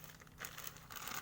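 Quiet, close plastic crinkling as a bag is handled for vacuum sealing, with two short bursts of rustle over a faint low background hum.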